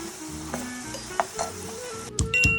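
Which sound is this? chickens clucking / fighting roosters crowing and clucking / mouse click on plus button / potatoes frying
potatoes frying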